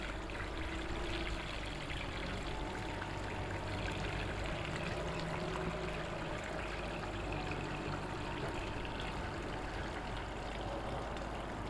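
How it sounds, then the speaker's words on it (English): Water poured off ground IC chip material during washing, a steady continuous stream and trickle with low rumbling background throughout, no voices. "I'm just going to keep washing this stuff and pouring off the water"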